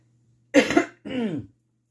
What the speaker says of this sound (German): da musste ich mich mal ganz kurz räuspern